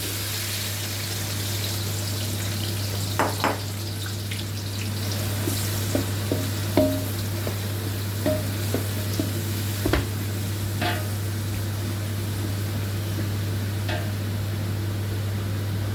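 Chopped onions added to hot oil for Turkish menemen, a steady loud sizzle and frying hiss with scattered pops and crackles, alone without talk.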